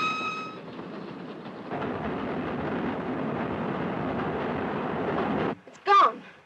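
A train running on rails in a 1938 film: a steady, rumbling rattle of carriages that fills several seconds, then cuts off abruptly before a brief spoken line.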